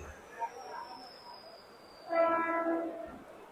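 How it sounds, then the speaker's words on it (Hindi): A Mumbai local train pulls into Dadar station in the monsoon, bound for Borivali: a long, steady horn sounds, then the rumble and clatter of the carriages swell as it arrives, with a voice speaking nearby. "ये दादर वाली ट्रेन आ चुकी है जो कि बोरीवली तक जाएगी।"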